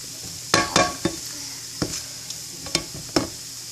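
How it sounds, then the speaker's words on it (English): Eggs hard-scramble in a hot pan, a steady sizzle broken by several sharp scrapes and clinks of a utensil against the pan at irregular intervals. "this is a nice hard scramble on the eggs"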